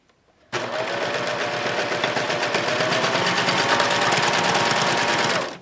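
A serger stitches cording into a seam with a cording foot, its fast, even machine whir starting abruptly and running steadily and close for about five seconds before stopping.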